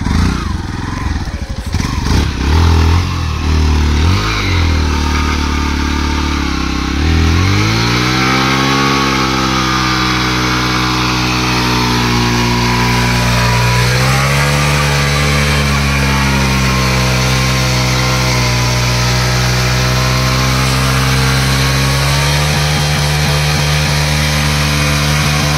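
A motorbike engine revs loudly and close by for a long stretch, rising and settling through repeated throttle swells with a steady harmonic drone, while faint voices come through at the start.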